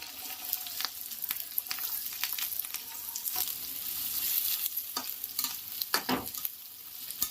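Onion, curry leaves, ginger and garlic sizzle steadily in hot oil while being stirred, with repeated scraping clicks of the spoon against the pan, close and alone.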